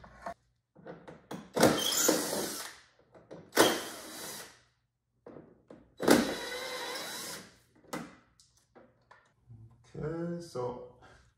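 A power driver backs T30 screws out of the fender liner of an Audi R8, in three loud whirring bursts of a second or so each, with someone talking in the pauses between them.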